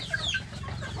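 Free-range village chickens in a backyard coop cluck softly, a few short close calls over a low steady rumble, with no speech.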